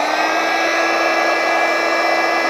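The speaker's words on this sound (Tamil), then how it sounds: "இன்ஃப்ளேட்டரை ஆன் பண்ணுறேன்" An electric inflator runs steadily, pumping air into a car air bed mattress. The motor drones loud and close, with an unbroken whirring hum and no voices.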